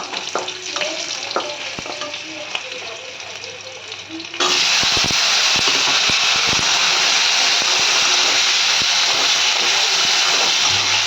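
Ridge gourd and potato are tipped into a hot pan with garlic and green chilli, and the quiet frying suddenly surges into a loud, steady sizzle. Sharp clatters of stirring follow, with faint talk underneath.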